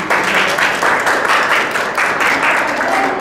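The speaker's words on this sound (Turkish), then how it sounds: "bir alkışlayın bir numarayı" A crowd claps steadily and loudly throughout at a Quran course event in Siirt, Turkey, a dense, continuous patter of many hands applauding together.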